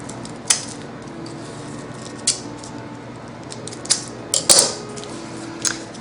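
Scissors snip through tissue paper for handmade flower decorations, giving a handful of short, crisp cuts at irregular intervals, close by, with a quiet room between them and no talking.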